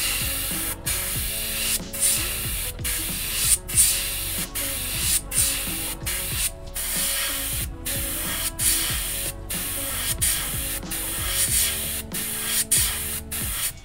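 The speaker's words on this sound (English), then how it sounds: "we're going to be doing is spraying this blue real lightly, as light as we can, down the center line of the bait." Blue paint sprays lightly onto a fishing lure bait in short, repeated hissing bursts separated by brief gaps, close and fairly loud, with soft handling clicks in between.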